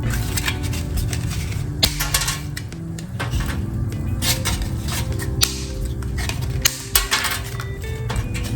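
High fiber lasagna noodles snapped into pieces by hand over a pot, a busy run of close clinks, cracks and rattles with a few sharper snaps throughout.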